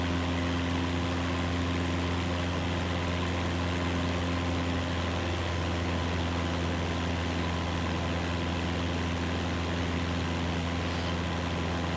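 A Beechcraft propeller plane's engine drones steadily in flight in Microsoft Flight Simulator 2024, holding a constant, loud low hum with no variation and no talking.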